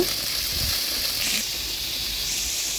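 A curry set on to cook in a pan sizzles and hisses steadily up close, a continuous frying sound with a slight swell early on.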